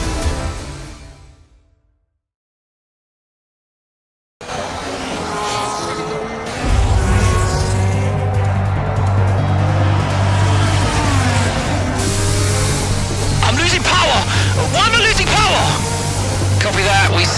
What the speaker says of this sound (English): I don't think I've ever seen the Connor Sport car being put through its paces quite like this.